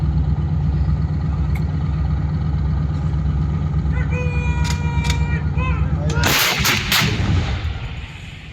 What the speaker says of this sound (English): We have seen the thunderous effect of guns on the target